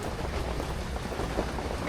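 Steady rain falls as an even, broadband hiss with no breaks, moderately loud and close, without voices or other distinct sounds.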